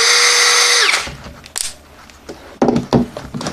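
A CANLIDI cordless drill whines loudly at steady high speed for about a second, then winds down, followed by handling clatter and clicks at close range.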